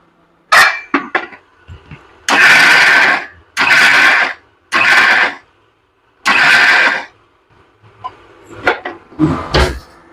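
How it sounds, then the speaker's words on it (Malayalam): An electric mixer grinder coarsely crushes avial vegetables with no coconut in short pulses: four loud, close whirring bursts of about a second each with silent gaps, then softer clatter and handling noise. "അപ്പോൾ നമുക്കിതൊന്ന് അരച്ചിട്ട് വരാം"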